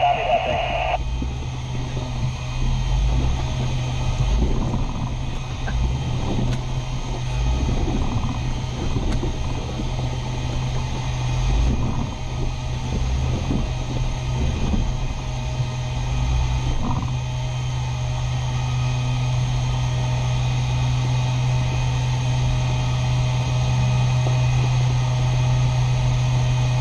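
An off-road vehicle with a clutch climbs a hill at a hot springs ORV trail, its engine droning steadily and loudly throughout with wind rumble, while people talk over a radio.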